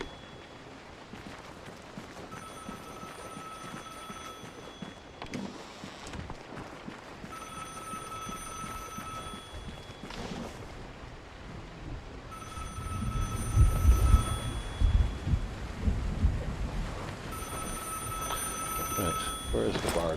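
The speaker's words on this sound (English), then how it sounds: "Someone's ringing the telephone" A telephone in the Vigor game rings in repeated bursts of a bright electronic tone, about two seconds on and two off, set against rustling footsteps and movement, fairly close and moderately loud.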